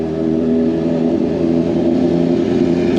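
A motorbike rides past on a street in Dayton, its engine a loud, close, steady drone that holds for a few seconds with no talk over it.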